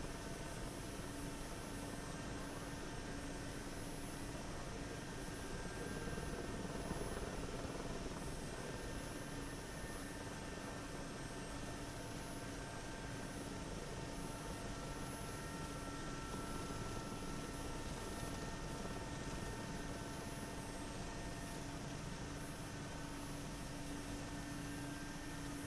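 Mi-8 helicopter in the DCS flight simulator during a vertical landing, a loud continuous turbine whine and rotor drone holding steady throughout with no break.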